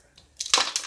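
Walnut shells crack and shatter in a short, sharp crunch, a quick burst of brittle breaking that is close and fairly loud, with no voices.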